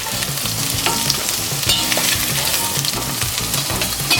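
Okra sizzles in a pot of canola oil with a loud, close, bubbling crackle, steady throughout, with low clatter of stirring underneath and sharp pops now and then.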